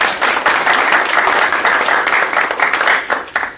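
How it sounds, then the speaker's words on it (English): Sustained audience applause at a real estate sales meeting, dense steady clapping from a room full of people that carries on evenly and starts to thin toward the end. "Can we give Emily a round of applause?"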